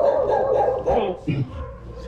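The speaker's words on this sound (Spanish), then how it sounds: "Se alborotaron los perritos, mira." Small dogs bark and yip excitedly in a cemetery at night, a short agitated burst heard close, mixed with a person talking.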